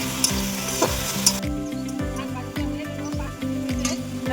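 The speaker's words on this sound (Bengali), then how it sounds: "শাকগুলি অল্প আমি ভাজা নিব।" Jute mallow greens fry with onions in a pan, making a loud continuous sizzle broken by regular scraping strokes of a stirring spoon, with no voices.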